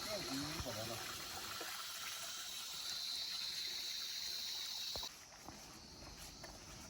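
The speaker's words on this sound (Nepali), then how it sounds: "नेचुरल पानी" Natural water in a Nepali mountain village runs steadily near the microphone, a constant gushing hiss with a voice talking briefly at the start and faint footsteps.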